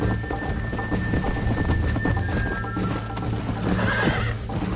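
Horse hooves clip-clop in a steady galloping rhythm in Red Dead Redemption, close and continuous, with a brief whinny and snorting mixed in near the end.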